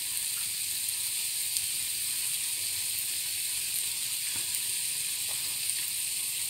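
French toast sizzling on low flame in a pan greased with desi ghee, a steady broad hiss of frying throughout with a few faint clicks, close and even, no talking.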